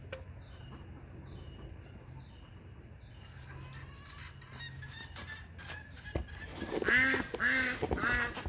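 Ducks quack in a loud, close burst of repeated harsh calls near the end, after a quieter stretch of faint farmyard bird chatter and low background hum.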